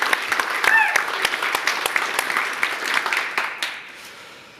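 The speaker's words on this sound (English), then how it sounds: "Applause." A PyCon AU conference audience breaks into brisk applause, many hands clapping together in a hall before it thins and fades out. A voice is heard briefly over the clapping.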